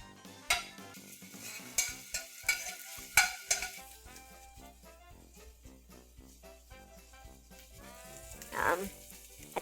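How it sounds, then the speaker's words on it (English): Garlic and ginger sauté in a pan with a soft sizzle, broken by sharp, irregular scrapes and clinks of a utensil stirring against the metal. "I'm going to saute the garlic and ginger a little bit in the pan until we get a sweet smelling aroma"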